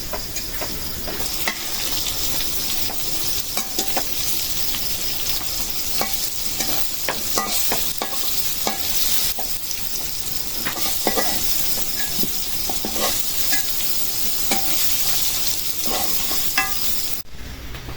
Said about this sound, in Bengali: এখন ওই তেলে কটা শুকনো মরিচ ভাজো